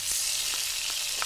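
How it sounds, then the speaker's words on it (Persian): Tomato paste fries beside chicken pieces in a pan for a Gilani torsh kabab, a steady close hiss of sizzling oil with a few soft scrapes of stirring. "ما اندازه 2 قاشق غذاخوری رب رو هم کنار مرغ‌ها تفت میدیم."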